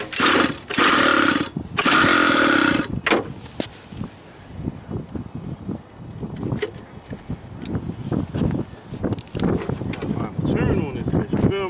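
A two-stroke engine with a loose carburetor revs loudly in a few short bursts up close. People then talk over faint, intermittent mechanical knocks.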